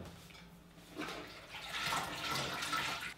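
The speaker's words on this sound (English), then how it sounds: "So I'm going to rinse out the shirt now." A linen shirt dyed with Concord grape skins is rinsed under running water, a faint hiss of flowing water that swells and stays steady for a few seconds, with no talking.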